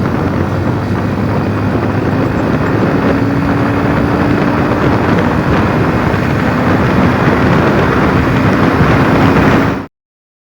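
A modified motorcycle out on a ride gives a loud, steady drone of engine and rushing wind that holds unbroken for about ten seconds, then cuts off abruptly.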